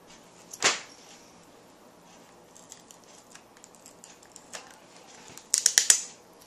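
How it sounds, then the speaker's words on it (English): Adhesive being peeled off the LCD screen of an HP Pavilion dv6135 laptop during a screen replacement: a sharp crackling rip near the start, faint scattered ticks, then a close cluster of quick crackly pulls at the end. "right now this is glued, so we're peeling the glue off of that"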